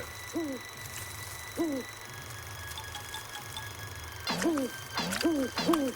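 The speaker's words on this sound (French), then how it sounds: "Chouette alors, un hibou, j'adore les hiboux." Owl hooting as a cartoon sound effect, wavering two-note hoots repeated in a slow then quickening series, clear and fairly close over a faint steady background hum.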